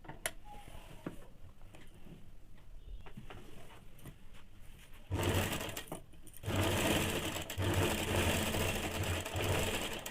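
Sewing machine stitching the hem of a heavy-size petticoat, running in quiet bursts at first and then loud and steady from about the midpoint, with brief pauses between runs.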